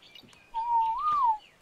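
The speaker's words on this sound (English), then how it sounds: "Nice bird, I know you're getting impatient with me standing on the spot." A bird in the survival game ARK lets out a single clear whistled call that rises slightly and falls away, about a second long, close and distinct over faint background noise.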